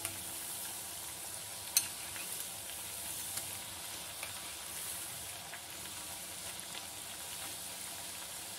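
Murukku dough spirals frying in hot oil for an instant homemade batch, giving a steady, gentle sizzle with soft crackles and a few sharper pops throughout, heard close and alone with no talking.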